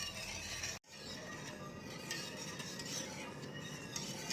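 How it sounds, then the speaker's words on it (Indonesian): A spoon scrapes and swishes steadily through pudding batter with egg in a pot, a soft continuous stirring sound, close and quiet, broken by one brief dropout and with no talk. "Kita aduk-aduk dulu sebentar, kemudian nanti kita panaskan ya."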